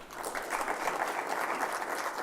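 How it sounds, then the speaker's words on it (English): Applause from a conference audience at a cyber security event, a dense even patter of clapping that carries steadily through the whole stretch with no voices over it. "Let's clap again for Finn Yang."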